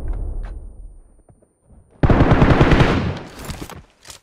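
In the game Pharaoh, a loud close burst of rapid machine-gun fire suddenly breaks a quiet moment and rattles for about a second before trailing off into a few scattered shots.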